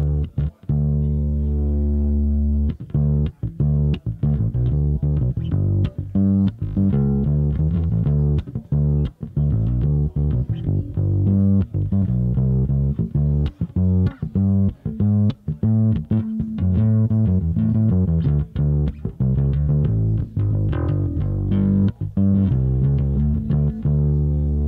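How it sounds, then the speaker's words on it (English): Electric guitar played through a 1964 black panel Fender Showman amplifier rings out in chords and picked notes, with a bright, tight, clean tone and a strong steady level. "That's the kind of brighter, tighter Showman sound."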